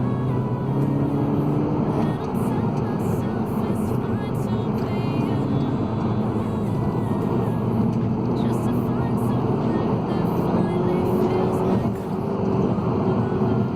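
A Volkswagen Scirocco in sport mode pulls hard from inside the cabin, giving a steady, loud engine drone with rising pitch as it accelerates, accompanied by constant road and wind noise.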